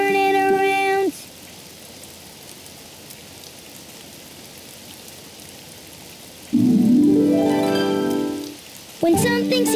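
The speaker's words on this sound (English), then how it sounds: "It's raining outside." Steady rain patters softly throughout, briefly interrupted by bursts of bright tonal music at the start, middle, and end.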